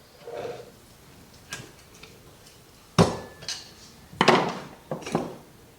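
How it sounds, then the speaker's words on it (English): A screwdriver gently pries the end cap off a Cycle Electric regulator for a 1974 Ironhead chopper at a workbench, giving a few sparse, close metallic clicks and sharp taps separated by quiet gaps. "I just took this screwdriver and just kind of popped it up very gently"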